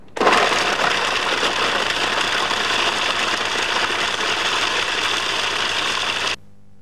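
A Cuisinart DLC-10 food processor with its metal blade chops one-inch chunks of Parmesan, a loud, steady whirring grind that starts abruptly, runs evenly for about six seconds, then cuts off sharply.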